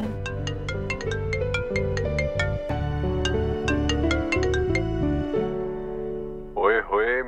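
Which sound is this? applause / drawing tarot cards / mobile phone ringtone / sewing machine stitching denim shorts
mobile phone ringtone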